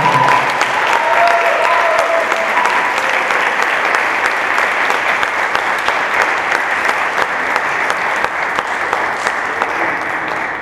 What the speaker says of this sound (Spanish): vamos a recibir también en este escenario con un fuerte aplauso a la maestra Carmen y Loisa Sánchez